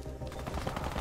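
Rapid bursts of gunfire in the video game Warface crackle over a steady background, with repeated sharp shots close together throughout.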